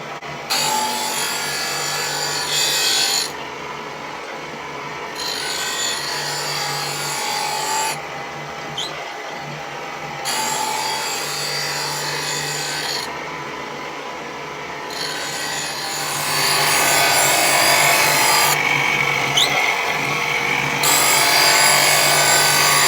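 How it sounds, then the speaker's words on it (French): A bench grinding wheel sharpens planer knives with a continuous abrasive grinding hiss. It runs close and steady, with short regular quieter gaps as the knife passes, and grows louder near the end. "Je mets en route la meule et c'est parti."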